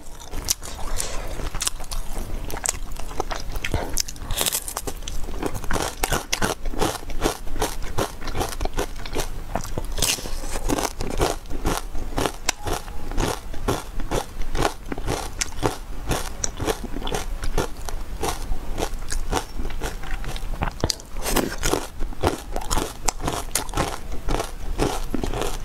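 Crispy rice crust snack being bitten and chewed up close, a continuous stream of loud, dense crunches and crackles with a rapid steady rhythm and no talk over it.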